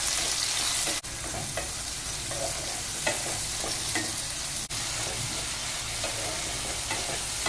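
A large tomato frying with onion in a pan for shahi matar paneer, a loud, steady sizzle close by, broken by regular scraping stirs and two brief dips, with no voices.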